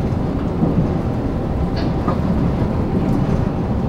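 A JR West 381 series Kuroshio limited express train runs at speed, heard from inside as a steady, dense rumble of wheels and motion that never lets up.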